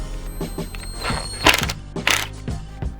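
Screws are tightened into uPVC window hinges by hand, a run of small clicking, ratcheting and knocking sounds in an uneven rhythm, close and moderately loud, with two sharper thunks.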